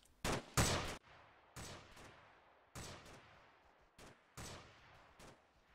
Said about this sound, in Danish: Vi giver dem bare lige et par skud.